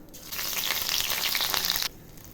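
Black cumin and grated ginger frying in hot mustard oil in a kadai, a loud steady sizzle that bursts up, holds for about a second and a half, then cuts off abruptly.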